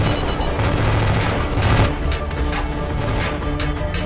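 Sustained gunfire from multiple sources in a gunfire detection system demonstration, a dense continuous barrage of booming shots with sharp cracks throughout.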